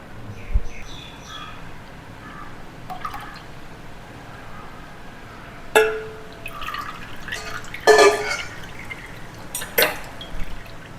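Halwa batter drips and trickles through a filter in a kitchen, with sparse wet plops and a few sharper clinks of utensils against pots, close and otherwise quiet.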